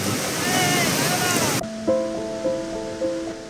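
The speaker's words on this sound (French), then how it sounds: "Finalement, en changeant de plan, on tombe sur la cascade du Rouget." The Cascade du Rouget in the Alps roars as a loud, broad rush of falling water for about a second and a half before cutting away to a quieter scene with tonal sounds.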